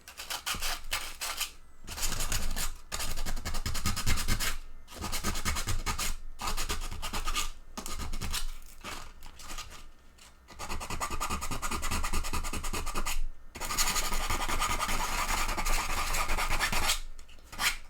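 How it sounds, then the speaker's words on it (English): Coarse 80 grit sandpaper rubs a 3D-printed T-Rex bust in fast rhythmic back-and-forth strokes, close and loud, with short pauses between bursts of rasping. "I'm back to the 80-pound sandpaper up here just to get it started"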